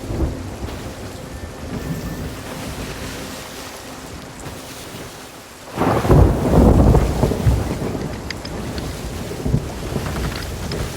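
Stormy sea in Sea of Thieves: a steady wash of wind and rain with waves churning, swelling into a loud rushing surge of water halfway through, with the ship's rudder knocked about by currents.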